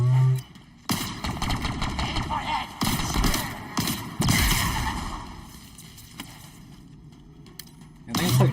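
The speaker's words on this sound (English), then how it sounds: "This is like a beam rifle, I think." A beam rifle in the video game Halo Infinite firing electric bolts, several sharp loud crackling blasts with rumbling tails spaced over the span, among other game noise and a voice talking.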